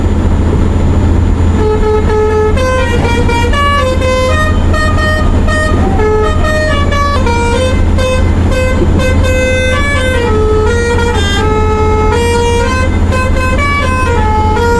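Bus horn honking in an Indian bus-driving video game played with a Logitech G29 wheel, a loud musical multi-tone horn blaring in stepped, repeating pitch patterns almost nonstop over a constant low engine rumble.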